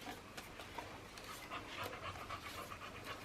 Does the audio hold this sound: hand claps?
no